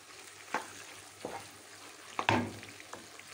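Chopped liver drops into a pan of frying onions and sizzles, with a few stirring scrapes and hissing bursts at close range, no voices.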